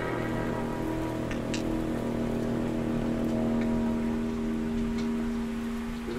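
Steady heavy rain pours down throughout, a dense continuous hiss with a low hum underneath and a few faint clicks, no voices.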